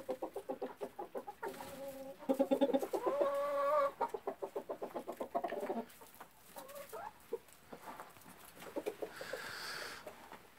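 Silkie chickens cluck in rapid bursts, close by, with a few drawn-out squawks in between and a low background murmur.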